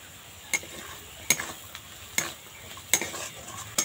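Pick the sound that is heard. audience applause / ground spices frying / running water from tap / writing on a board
ground spices frying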